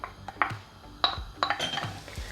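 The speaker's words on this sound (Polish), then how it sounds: "Na patelnię wlewam olej i wrzucam cebulę." Onion frying in oil in a pan and being stirred, with a spatula clinking and scraping against the pan in quick, irregular taps, quiet and close, with no talk.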